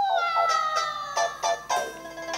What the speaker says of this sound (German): Katze, die Katze.